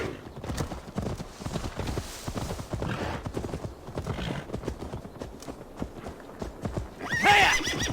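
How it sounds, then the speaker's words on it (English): In Assassin's Creed Valhalla, a horse clip-clops along with steady hoofbeats and then gives a loud neigh near the end. The sounds are close, with game ambience underneath. "Now to deliver Magni his horse."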